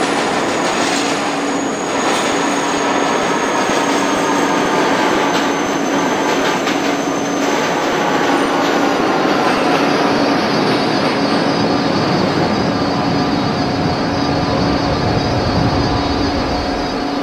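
A simulated NYCTA E local subway train in the OpenBVE train simulator, running with a loud, steady rumble and a long high-pitched whine of wheels and motors throughout, no voices.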